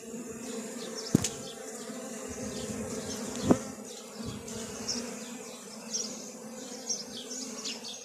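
Honeybees at a hive after two colonies are merged, a continuous close buzz of many bees with a few sharper passes of individual bees near the microphone, no talking.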